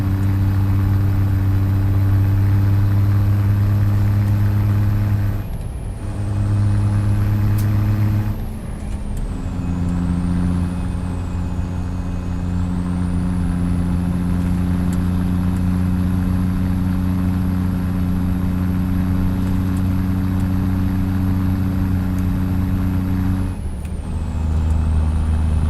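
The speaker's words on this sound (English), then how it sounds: "J-brake sounds great, doesn't it?" A Peterbilt 389 truck's engine brake drones loud and close with a deep, steady staccato rumble, breaking briefly a few times as the pitch shifts between gears, with a high whine running over the top.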